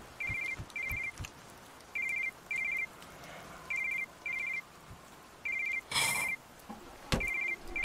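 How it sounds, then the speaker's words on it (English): A toy phone rings in the horror game Sweet Dreams, in crisp paired electronic trills repeating at a regular pace, broken by a few sharp knocks and a burst of noise. "And a toy phone?"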